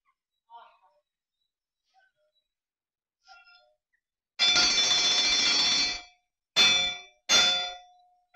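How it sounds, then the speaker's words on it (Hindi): A loud metallic railway station bell, rung to announce an approaching train, clangs in a sustained ringing burst, then two shorter strikes follow, standing out clearly after near silence. "घंटी क्यों बजाई आपने, कोई गाड़ी आ रही है क्या?"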